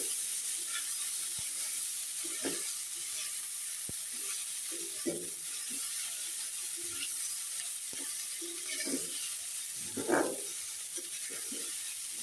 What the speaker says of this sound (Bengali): পেঁয়াজ আর মাছ একসাথে ভালোভাবে ভেজে নেব।